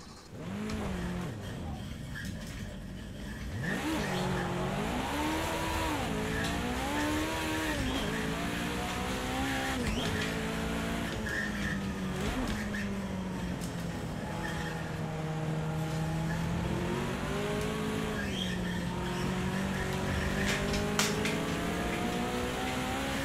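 A race car engine in the Project Cars 2 racing game, played on a 3DOF motion rig, drones continuously and rises and falls in pitch through gear changes and acceleration, loud and steady throughout.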